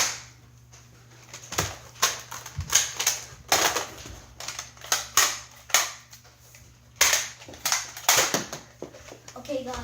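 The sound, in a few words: Nerf guns being fired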